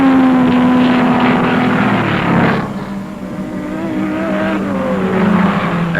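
Racing cars at the 1957 12 Hours of Sebring endurance race drone past with a steady engine roar, one pitch sliding down as a car goes by, then fading and building again from afar.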